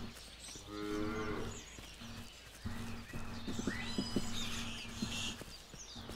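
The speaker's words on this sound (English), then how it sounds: "And there's the laughing sheep." Sheep in the video game Force of Nature let out a couple of quiet bleats. Soft hoof-like clops and other game sounds carry on around them.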